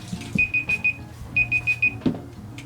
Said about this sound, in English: my timer is up